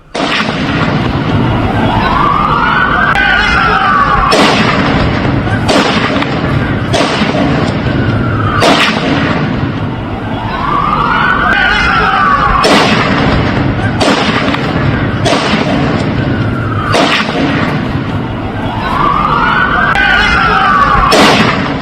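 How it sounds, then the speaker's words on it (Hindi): Sharp, loud gunshots from a gunman in a shooting attack crack out one after another at irregular intervals over a steady roar of noise, with a rising and falling whine recurring in the background. "नवीद अकरम देखिए बेखौफ होकर बेधड़ल्ले से गोली चला रहा है।"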